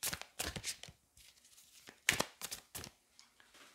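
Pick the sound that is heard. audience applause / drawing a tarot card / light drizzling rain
drawing a tarot card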